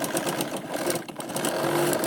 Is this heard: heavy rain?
no